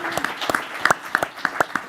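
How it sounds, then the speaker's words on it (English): An audience at a panel discussion on digital infrastructure financing applauds the panelists, giving a short burst of clapping with distinct claps standing out over a soft background murmur. "Let's give our panelists a huge round of applause and thank them."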